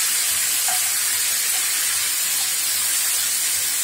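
Crushed fried tomato sautéing in a pan, giving a steady, even sizzle and hiss that holds at the same level from start to finish, close by, with no talking.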